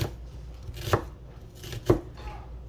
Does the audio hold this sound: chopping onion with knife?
yes